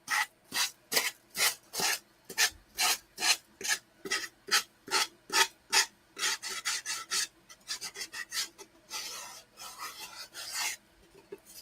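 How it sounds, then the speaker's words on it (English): A worn sandpaper pad rasps over a surface in steady, rhythmic back-and-forth strokes, about twenty of them, close and fairly quiet, with the strokes growing quicker and less even toward the end. "I think maybe this sandpaper pad is getting a little worn. It's not working as well as it used to."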